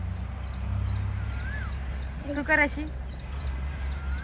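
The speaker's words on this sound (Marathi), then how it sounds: "पक्ष्यांचा आवाज बघ कसा येतोय" Birds call around a farm: a string of short, high chirps repeats steadily through the scene, with one brief rising call, all under nearby voices talking and a low background rumble.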